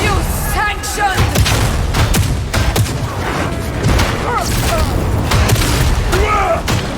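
An exploding barrel in the video game Darktide sets off heavy booms amid dense gunfire and clattering combat, loud and continuous throughout.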